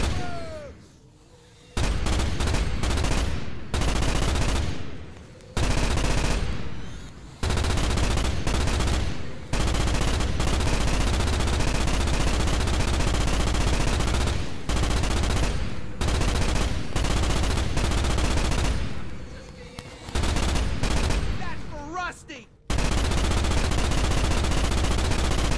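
Sustained bursts of automatic rifle fire from the Starship Troopers shooter game, loud and dense, broken by short pauses over about twenty-five seconds, with no talking.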